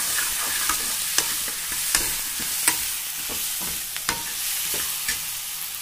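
Masala with a spoonful of chili powder stirred and fried in a pan, a steady sizzle broken by sharp repeated scrapes and clinks of the spoon against the metal, close and fairly loud, with no talking.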